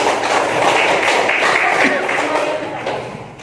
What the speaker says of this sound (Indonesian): Ya, sekali lagi tepuk tangan.